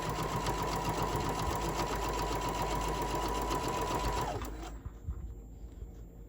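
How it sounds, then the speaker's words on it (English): Close, loud run of a sewing machine stitching fabric for a zipper pouch, a steady rapid needle rhythm for about four seconds before the motor stops abruptly, leaving faint handling noise. "I'm going to sew right off the end"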